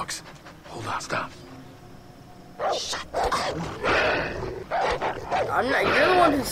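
Dogs bark in the Far Cry 3 video game, with several short bursts of barking and yips coming in spurts amid background noise. Voices talk over part of it.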